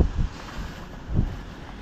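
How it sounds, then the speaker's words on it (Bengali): Cyclone Remal's strong wind and rain outside in Kolkata, a low rumbling roar with gusts buffeting the microphone in two heavy surges over a constant storm wash. "বাইরে প্রচণ্ড জোরে ঝড় বৃষ্টি হচ্ছে"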